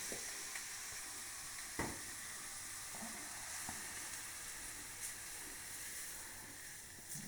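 A steady, quiet sizzle of vegetables stewing in a pan, with a constant soft hiss and a few faint clicks, no talking.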